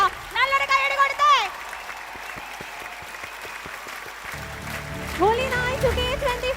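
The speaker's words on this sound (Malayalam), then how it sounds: "നല്ലൊരു കൈയടി കൊടുത്തേ." An audience at a Holy Night church gathering claps to welcome the priest onto the stage, scattered sharp claps in the middle, with a loud amplified voice calling out before and after.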